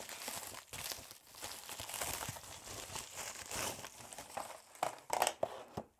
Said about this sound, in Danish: Jeg pakker den lige ud.